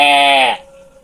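A man imitates a sheep's bleat with his voice, one loud, wavering, nasal baa held for about half a second before cutting off, close and alone.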